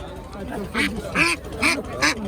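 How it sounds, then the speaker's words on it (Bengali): Several loud, nasal duck quacks in quick bursts, close by at a riverside market, with people talking underneath. "এই যে হাঁস কাকার বাড়ির হাঁস"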